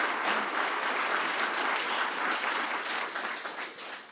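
Audience applause at a forum as a guest is welcomed to the stage, a dense, steady burst of clapping that tapers off slightly near the end.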